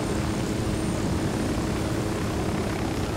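Helicopter in the game Ghost Recon Wildlands, a loud, close, continuous rotor and engine roar with heavy low-end throb, steady throughout with no talk.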